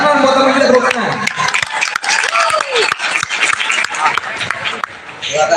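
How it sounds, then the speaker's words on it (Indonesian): An audience of students claps for a classmate volunteer at a school religious talk, a steady patter of applause mixed with loud talking over it and occasional sharp knocks. "Tepuk tangan buat teman kita, tepuk tangan"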